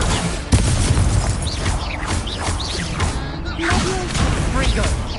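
Fire spell blasts from the Hogwarts Legacy video game burst out in a dense stream of booms and crashes, with magical whooshes sweeping over a loud, steady game soundscape and voices calling out spells.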